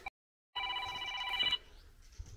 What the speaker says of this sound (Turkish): bir yandan telefon çalıyor.